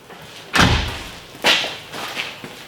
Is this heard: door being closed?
yes